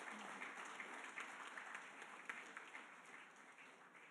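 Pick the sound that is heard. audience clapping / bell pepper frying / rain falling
audience clapping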